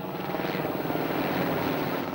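A Eurocopter helicopter is heard close by, giving a loud, steady whirring rotor thrum with a fast chopping pulse that continues without a break and has no talk over it.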